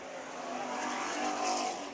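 Hobby stock race cars roar around Bakersfield Speedway in a steady, loud engine drone, with a brief hint of tire squeal and no talk over it.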